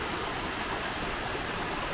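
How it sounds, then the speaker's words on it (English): Lumsdale Falls waterfall, a steady, full rushing roar of falling water heard close up and continuous, with no voices. "But this is apparently the waterfall."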